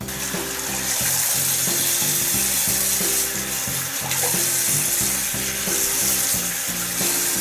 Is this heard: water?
yes